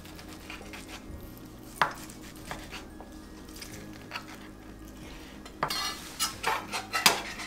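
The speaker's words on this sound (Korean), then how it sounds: "먹기 좋은 사이즈로 자르세요." A knife slicing boiled pork belly into bite-size pieces on a board: quiet scattered taps and scrapes, with a louder run of quick clinking cuts near the end, and no talking.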